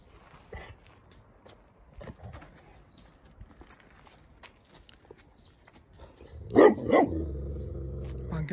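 A guard dog in a backyard gives a couple of sharp, close barks near the end, after a stretch of quiet pattering and faint movement.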